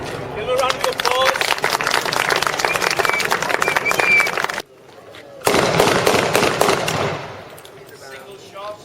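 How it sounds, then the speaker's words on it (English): A crowd at the Elsecar War Weekend reenactment claps in a loud, crackling burst under raised voices. It drops out briefly midway, returns just as strongly, then fades. "Give a round of applause."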